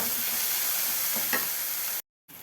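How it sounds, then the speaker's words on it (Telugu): Chopped tomatoes frying in a pan for egg biryani give a steady, close sizzle with a brief stirring scrape near the end, then a short cut to silence before the sizzle returns. "ఇప్పుడు దాంట్లోకి మనం కట్ చేసి పెట్టుకున్న టొమాటోస్ వేసుకొని ఫ్రై చేసుకోవాలి"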